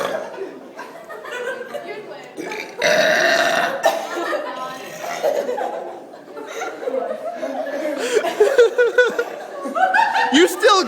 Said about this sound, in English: You want to join in on the burping contest?